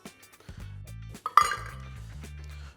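A spoon clinks against a bowl of corn flour, cocoa and caster sugar in a few close, intermittent taps, with one brighter clink midway and a low hum beneath.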